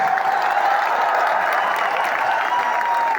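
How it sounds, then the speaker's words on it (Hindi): A large crowd at a political rally in a stadium clapping to welcome a team from Delhi, a continuous even roar of applause at steady volume throughout. "एक बार दोनों हाथ से तालियां बजा के दिल्ली की टीम का स्वागत करें"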